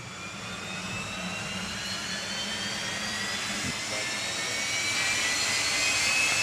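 A jet engine on a drag racing car at a doorslammer meet fires up and holds a loud, steady roar that slowly builds in intensity, with a high whine running over the top.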